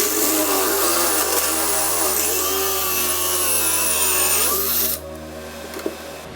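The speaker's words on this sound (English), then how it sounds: "now I'm going to go to the back side and drill it from" A power drill bores through a door to fit a deadbolt, a loud continuous grinding whine that shifts pitch as it cuts, then stops abruptly, leaving faint room noise and a small knock.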